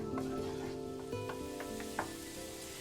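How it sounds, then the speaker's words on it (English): Garlic sautéing in hot oil for Kapampangan-style burong isda, a steady close sizzle throughout with a few light spatula taps against the pan, no speech. "Saute the garlic."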